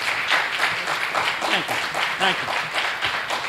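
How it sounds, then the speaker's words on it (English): An audience at a Bible study gathering gives a round of applause, a moderate, continuous patter of clapping with voices faintly audible over it. "Let's give a round of applause."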